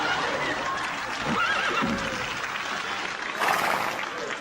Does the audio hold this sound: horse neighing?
yes